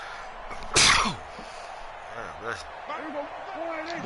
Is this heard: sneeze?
yes